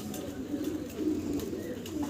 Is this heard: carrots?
no